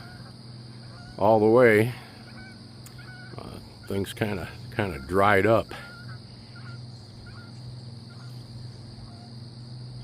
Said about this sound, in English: Many Canadian geese hang here around this area in the wintertime.